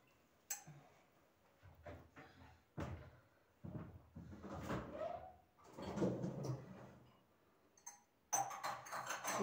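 Dishes being loaded into a dishwasher in a home kitchen, with scattered clinks, knocks and cupboard or door thuds coming in irregular bursts at close range, with no talking.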